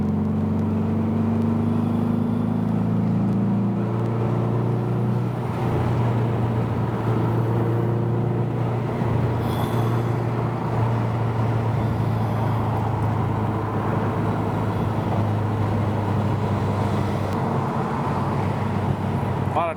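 A 1964 Porsche 356 C Coupe cruising on the I-5 freeway northbound, a steady engine and road drone with a continuous low rumble and passing traffic noise throughout, no pauses.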